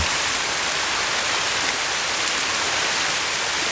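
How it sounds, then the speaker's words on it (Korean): A small waterfall pours through gaps in rocks: a steady, dense rush of falling water, a constant splashing hiss with no pauses, close by and fairly loud. "바위 틈새로 시원하게 쏟아지는 작은 폭포가 나타났다"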